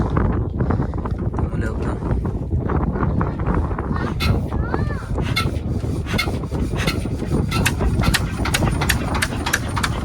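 A fishing boat engine runs steadily at close range, its low droning mixed with wind noise buffeting the microphone and faint voices.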